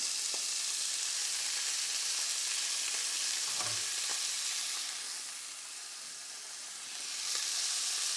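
Meat chunks brown in a hot pan at a French dinner cooking workshop, giving a dense, even sizzle that stays loud and close throughout, with one soft knock partway and no voices.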